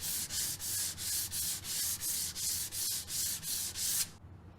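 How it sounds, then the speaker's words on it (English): Rhythmic scratchy sanding strokes, about ten steady back-and-forth rubs of sandpaper on a wood edge with edging tape, close and loud, stopping abruptly near the end. "go over it with a piece of sandpaper"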